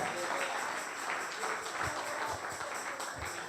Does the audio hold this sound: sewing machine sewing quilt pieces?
no